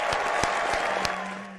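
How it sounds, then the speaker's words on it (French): Brief applause from an audience greeting a presenter, a moderate wash of clapping with a few distinct sharper claps that fades out quickly. "Il y a eu des applaudissements pour de vrai, ce n'est pas une blague."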